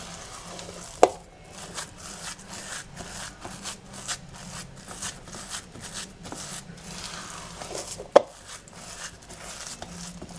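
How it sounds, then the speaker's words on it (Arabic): A spoon turns basbousa semolina dough in a pot, making soft, close, continuous scraping and stirring strokes with two sharper knocks. "نقلب كمان تقليبه كده محترمه اهو بالشكل ده كده، كل الجوانب كلها"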